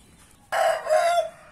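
A rooster crows once in a loud, close, drawn-out call lasting under a second, against a quiet farmyard background.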